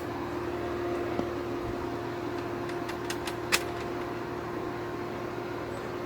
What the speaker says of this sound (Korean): 3단으로 돌렸을 때 소음입니다.